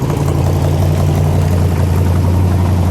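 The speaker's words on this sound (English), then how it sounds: "That's a great rumble there, Jimmy." A fuel-injected 1965 Chevrolet Corvette Stingray engine idles continuously and loudly, a deep, steady rumble with a throaty low exhaust drone and no voices.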